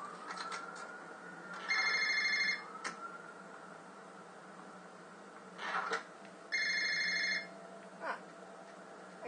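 Telephone ringing in the Indigo Prophecy video game: two separate bursts of electronic trilling rings, each about a second long, separated by a pause, over quiet background ambience.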